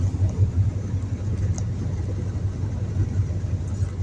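A car engine drones low and steady with a rhythmic hum, as if holding the vehicle back on a descent, heard from inside.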